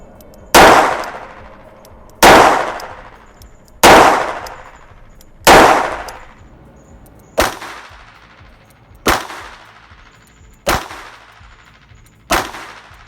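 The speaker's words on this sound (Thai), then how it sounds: "จะได้รับฟังเสียงชัดๆนะครับ ว่าแบงก์กัน มีเสียงประมาณนี้" Eight loud, sharp blank-gun shots fired at close range, about a palm's width from the target, each a hard crack with a short ringing tail, spaced roughly every one and a half seconds with no talking.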